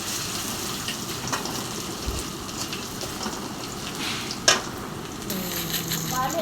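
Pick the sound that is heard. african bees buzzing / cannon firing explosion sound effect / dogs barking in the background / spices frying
spices frying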